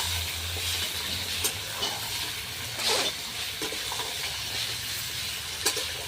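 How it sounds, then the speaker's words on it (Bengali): Young jackfruit pieces fry in hot oil with a steady, close sizzle, broken by occasional scrapes and stirring clatters from a spatula; no one talks. "তেলটা গরম হয়ে গেছে, এখন কাঁঠালের ইঁচড়গুলি ভেজে নেব।"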